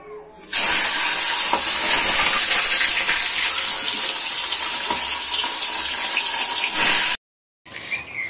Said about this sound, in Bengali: দিয়ে মাথাগুলো প্রথমে ভেজে নিই